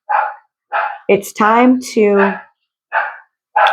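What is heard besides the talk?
dog barking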